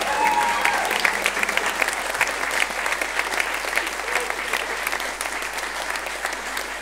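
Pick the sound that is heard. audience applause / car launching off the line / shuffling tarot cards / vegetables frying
audience applause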